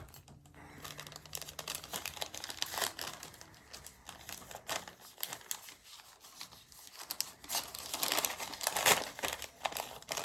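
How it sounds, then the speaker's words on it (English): A plastic bag holding a Yule tree ornament ripped open by hand, close and crisp, with bursts of crinkling and tearing that swell louder toward the end, no talking. "Our Yule tree, I'm ripping the bag right open."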